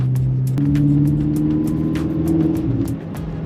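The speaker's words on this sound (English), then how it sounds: "that twin turbo V8 sounds so good" A powerful twin-turbo V8 engine of a BMW F10 M5 running loud and close, its deep tone shifting pitch as it revs, with no voices.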